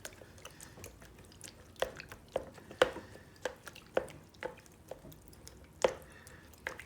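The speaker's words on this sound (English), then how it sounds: "We cut this up into little pieces that float on the milky white water." Levain dough is cut into small pieces that float in milky water, giving a scattered series of soft wet cuts and squishy drips, close and quiet.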